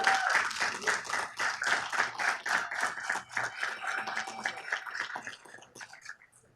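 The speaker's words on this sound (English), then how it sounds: "would you please give her a round of applause?" Scattered clapping from an audience in a city council meeting chamber, fairly quiet and uneven in rhythm, tapering off toward the end.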